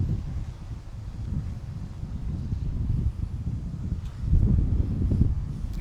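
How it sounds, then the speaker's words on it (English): Low, rumbling wind buffets the microphone in uneven gusts, growing stronger toward the end, with no voices. "It might be the wind, it's windy."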